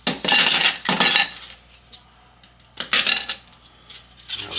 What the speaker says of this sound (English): The ice cubes pop right out.